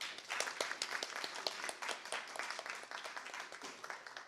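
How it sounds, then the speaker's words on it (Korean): An audience at a forum claps together, dense rapid applause that runs steadily and fades a little toward the end, heard from within the room with no speech. "배영수 교수님을 큰 박수로 맞이해 주시기 바랍니다."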